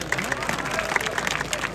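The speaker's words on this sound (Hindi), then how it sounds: "तो जोरदार ताली" Loud applause and clapping at a kabaddi match in Taunsa Sharif, with crowd babble mixed under it; the clapping is scattered and mid-distance, with a commentator's voice over it.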